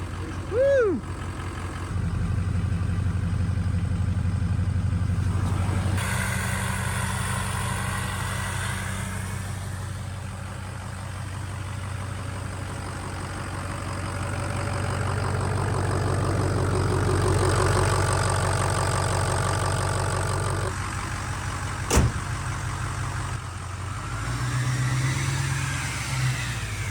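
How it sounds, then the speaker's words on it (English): A Ford diesel engine running without a muffler idles loudly and continuously for nearly half a minute, with a deep, knocking low rumble that swells slightly at times, close up. "this thing absolutely needs a muffler, but it is running good"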